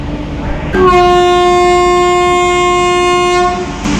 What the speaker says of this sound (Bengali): সেই হাওড়া পুরী সুপারফাস্ট এক্সপ্রেস এখন চলে যাচ্ছে তার নিজের গন্তব্যে, অর্থাৎ পুরী।